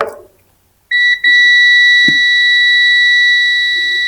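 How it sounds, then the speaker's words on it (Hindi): Multimeter continuity buzzer on an inverter AC circuit board check, a loud steady high-pitched tone that starts abruptly after a short silence, cuts out briefly, then holds on continuously, with a faint voice underneath. "ये बजर बज रहा है"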